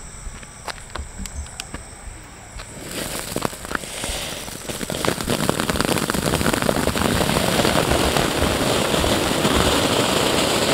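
Sultan firecrackers going off outdoors: a few sharp pops at first, then a dense, loud, continuous crackling and hissing burst that builds and keeps going for several seconds.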